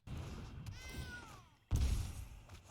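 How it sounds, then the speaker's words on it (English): A cat meows once, a clear drawn-out rising and falling call close by, followed by a sudden thump and some rustling in an otherwise quiet room. "Cat."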